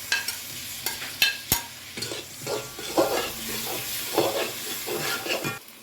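Tomatoes sizzling and frying in a pan with ginger, green chilli and garlic paste for a special egg curry, with repeated scraping stir strokes and sharp utensil clinks over a steady crackling hiss.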